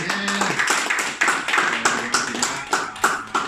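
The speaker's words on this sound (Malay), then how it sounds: "Okey, kita bagi tepukan untuk Abang Min kita." A small group claps at a company kick-off event, close and fairly loud, with uneven individual claps forming a loose, patchy rhythm rather than a dense roar.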